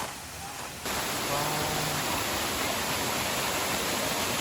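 Water at Diamond Falls in St. Lucia, where warm water flows down from the waterfall, a dense rushing hiss that starts quieter and swells to a loud, steady roar after the first second.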